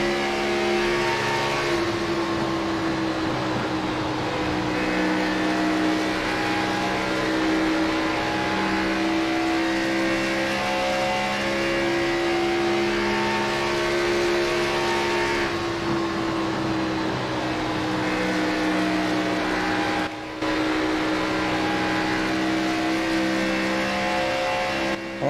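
Stock cars in an Xfinity Series race at Charlotte, their engines droning in a steady, loud, continuous roar with sustained harmonic tones throughout, a dense pack sound without pauses.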